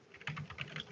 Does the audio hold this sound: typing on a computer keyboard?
yes